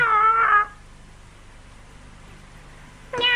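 An animated character's voice imitates a cat, giving two loud, close meows, one at the start and one at the end, with a quiet pause between them.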